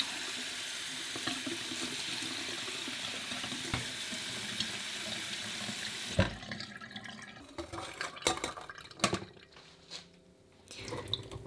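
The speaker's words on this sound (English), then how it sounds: "Run through the cold water." Cold tap water running steadily into a sink while defrosted food is rinsed, a constant hiss that breaks into uneven splashes and gurgles as the food is moved under the stream, with no talking.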